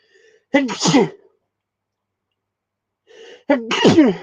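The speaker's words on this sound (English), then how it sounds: "I've got to sneeze" A sharp sneeze nearby, then a short silence before a second, stronger sneeze with a sharp intake of breath before it.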